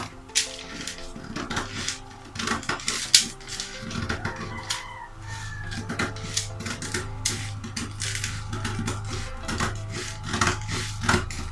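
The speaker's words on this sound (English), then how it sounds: "I'm going to cut this out now" Fabric being cut out along a pattern for a padded bustier, with irregular snips and rustling handling of cloth and paper, close and moderately loud over a low steady hum, no talking.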